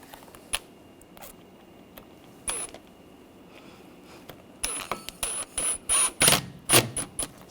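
A ratchet snugs down screws during a timing belt and water pump job on a 2004-2009 Audi A4 engine: sparse clicks at first, then dense bursts of quick ratcheting clicks, close and fairly crisp.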